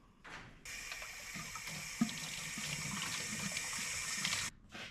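Tap water runs into a macaw's water bowl indoors, a steady close splashing stream that starts after a brief gurgle, holds for about four seconds with small clinks, then shuts off.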